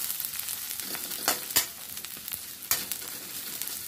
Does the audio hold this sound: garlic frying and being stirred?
yes